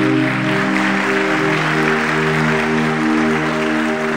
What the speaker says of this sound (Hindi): क्या हम जोरदार तालियों के साथ प्रभु का धन्यवाद दे सकते?